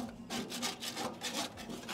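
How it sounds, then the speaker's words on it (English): Metal scraper knocking rust and ash out of the firebox of a CharGriller Grand Champ XD offset smoker, a faint steady series of rhythmic rasping strokes with no talking. "We're just knocking all this rust down as much as possible in there. Get that ash out of there. Scrape as much down as you can."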